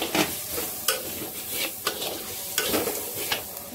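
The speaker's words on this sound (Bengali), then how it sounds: "একটুখানি চাল কুমড়া দিয়ে দিচ্ছি।" Ash gourd pieces are stirred into ginger paste frying in a pan, giving a steady sizzle broken by repeated scraping strokes of a spoon at a roughly regular rhythm, close and moderately loud with no talk.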